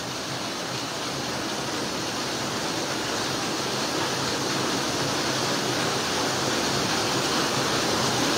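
Steady, loud rush of water roaring without pause, a dense broadband torrent of floodwater from heavy rain pouring past close by, in the Philippines.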